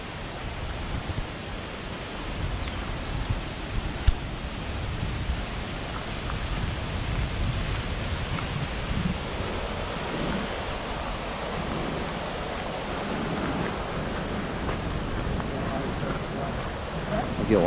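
Rainbow Falls waterfall near Hilo, Hawaii, pouring steadily as a dense, constant roar of falling water heard from a lookout, with no break in the wash of noise.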